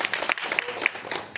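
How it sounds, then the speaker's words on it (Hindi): An audience claps together at a talk or meeting, a short steady burst of dense applause filling the room. "एक बार ताली होनी चाहिए दिल से"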